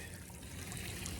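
Cold water from a tubewell pours into an outdoor swimming pool, making a steady, close trickling and splashing wash that fills the short stretch without any talk.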